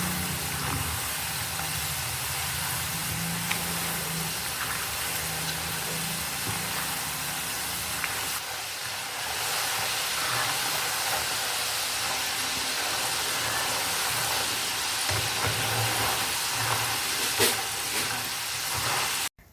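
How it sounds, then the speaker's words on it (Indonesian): Potatoes fry in hot oil over high heat, giving a steady dense sizzling hiss that holds evenly throughout with brief stirring shifts and no voices. "goreng kentang dalam minyak panas api besar, digoreng sampai kuning kecoklatan sampai berkulit"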